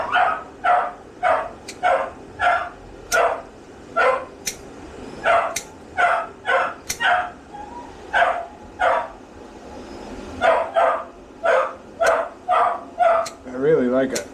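Dachshund barking during grooming, a long run of sharp, repeated barks in irregular bursts, fairly close, with a brief pause midway and a voice speaking at the end.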